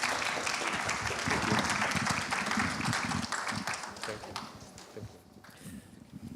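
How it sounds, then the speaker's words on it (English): Conference audience applauding panelists, a steady crowd clapping that fades out over several seconds into quieter room sound. "can we give our panelists a round of applause?"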